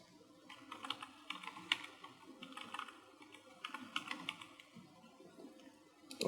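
Fingers type on a computer keyboard in quick bursts of soft clicking keystrokes, separated by short pauses, close and fairly quiet with no talking.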